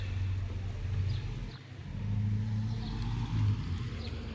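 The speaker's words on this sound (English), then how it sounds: "Gotta wait for some traffic." Cars pass along a residential street at a neighborhood entrance in Lomas de Mazatlán, producing a steady low engine rumble that swells and fades as vehicles go by, with no one talking.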